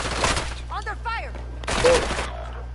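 Gunfire in Call of Duty: Warzone comes in two loud, close bursts of rapid shots. A short synthetic voice line sounds in the gap between them.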